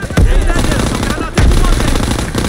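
Gunfire in the World War II shooter Call of Duty WWII, with sustained loud automatic bursts and sharp shot onsets, layered over dense battle noise and shouted voices.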